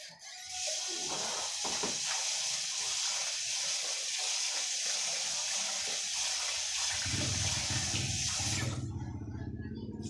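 Rice is rinsed in water before cooking as hot tap water runs in a steady hiss, then swishing, sloshing sounds of the grains being washed come through near the end.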